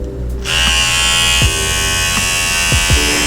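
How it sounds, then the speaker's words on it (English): A Kensen 4-in-1 dual-speed electric hair clipper switches on after a short pause and buzzes loudly and steadily up close, its whine shifting slightly a few times as it runs on its own. "let's take out the actual clipper and test it out"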